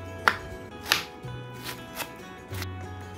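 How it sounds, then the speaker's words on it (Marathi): Knife finely chopping shevla, a wild vegetable, on a board: a few sharp, widely spaced cuts with a low hum beneath. "बघा असं बारीक कटिंग करून घ्यायचं."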